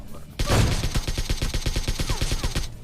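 AWM sniper rifle fire in the video game PUBG: a loud blast opens, followed by a rapid rhythmic volley of repeated shots lasting over two seconds.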